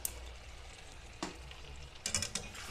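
Taro and already-fried potatoes cooking in a pan for a fish curry, a soft steady sizzle broken by a few sharp spatula scrapes and stirring knocks.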